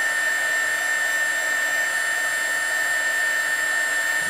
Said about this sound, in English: I'm just going to apply a little hot air. That'll warm up the heat shrink and, well, make it shrink.